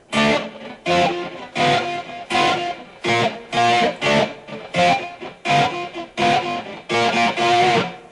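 A distorted electric guitar plays an 80s glam metal riff without delay: a run of about a dozen short, punchy chord hits in a choppy, bouncing rhythm, loud and close, with no talk.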